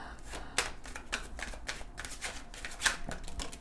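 Tarot cards are handled and shuffled close by, producing quiet, rapid riffling and soft flicking bursts with a few sharper snaps.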